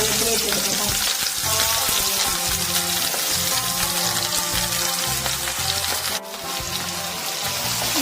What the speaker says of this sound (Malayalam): കടുക്ക മൂപ്പിച്ചെടുക്കാൻ വേണ്ടിയിട്ട് നമ്മൾ സെയിം പാനിലോട്ട് തന്നെ വെളിച്ചെണ്ണ എണ്ണ ഒഴിച്ചെടുക്കുന്നത്